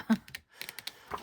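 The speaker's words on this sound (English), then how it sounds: "They are noisy scissors" Several quick, crisp snipping clicks of scissors cutting paper, close up and uneven in rhythm.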